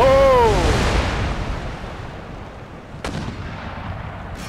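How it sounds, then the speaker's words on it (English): Rockets firing in the Empire: Total War battle game, a loud booming launch with a whistling rise, a long rumbling decay and a second sharp crack near the end. "Crazy rockets."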